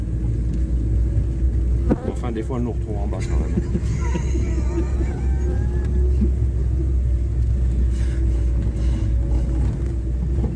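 A car driving a short stretch of road, a loud continuous low engine rumble with road and wind noise filling the whole stretch, while a person speaks briefly over it.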